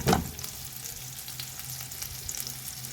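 Fish sizzles steadily in a hot pan after a brief clatter as it is flipped, a soft, even frying hiss that continues alone.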